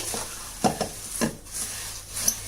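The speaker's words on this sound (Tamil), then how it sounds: "ஸ்டவ் ஆஃப் பண்ணிவிட்டு இதை நல்லா மிக்ஸ் பண்ணி விட்டுக்கலாம்" Puffed rice sweet mixture being stirred in a pan with the stove off, giving a few soft scraping, rustling strokes with light crackle at a steady, unhurried pace, close and quiet with no voices.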